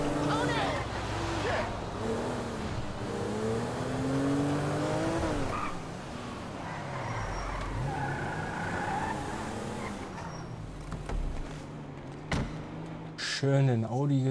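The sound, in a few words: Audi car driven hard in video game GTA V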